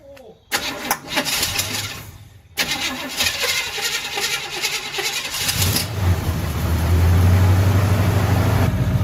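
A 1972 Chevy Cheyenne C20 truck, freshly fitted with new fuel lines after sitting 16 years, cranks loudly and fires up, then settles into a steady, rough idle close by.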